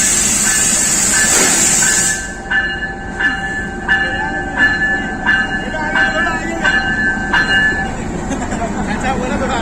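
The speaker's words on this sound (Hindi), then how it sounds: "दोस्तों लोकोमोटिव GO20 4559 की लीडरशिप में आ रही है रेल कार।" A Pakistan Railway rail car led by locomotive GO20 4559 pulls into a platform in the rain; a horn blast opens, then a run of rhythmic wheel clicks and rumble continues close by, with a voice speaking over it.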